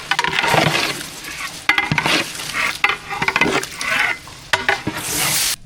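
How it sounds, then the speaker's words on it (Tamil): Rice and vegetables being stirred in a pot for vegetable biryani, with curd and lemon juice added, giving repeated scraping and clinking strokes of a spoon against the pot, close and fairly loud, with no talking. "நல்லா கலந்து விட்டுக்கலாம்"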